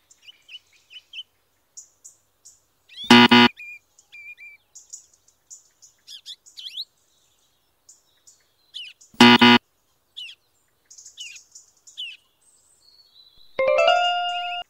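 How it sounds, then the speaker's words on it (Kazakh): Baby chicks cheep in short, high chirps that come and go throughout, broken by two sharp, loud bursts of noise and a brief tonal ringing near the end. "Балапан, ол тауықтың төлі."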